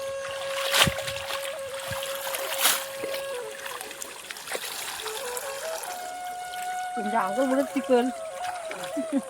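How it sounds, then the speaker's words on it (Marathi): Water trickles and gurgles along a field irrigation channel in Konkan paddy country, a soft steady flow heard under a voice speaking nearby, with other faint tones around it. "हा पाट आहे पाटातून पाणी जातोय तिकडे खाली"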